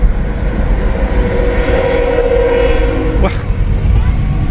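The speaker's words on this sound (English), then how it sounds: "Finally got another train." A train rolls past in a steady, loud rumble with a faint whistling tone riding over it, while a voice talks over the noise and a brief sharp hiss cuts in near the end.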